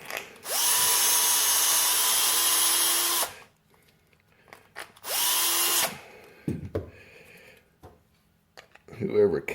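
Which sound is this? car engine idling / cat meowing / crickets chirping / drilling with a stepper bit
drilling with a stepper bit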